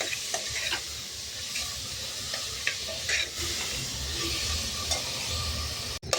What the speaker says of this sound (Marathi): आणि आता धुवून स्वच्छ केलेला शेपू पालक टाकून द्यायचं आणि हे असं छान तेलावर परतून घ्यायचं लागेल.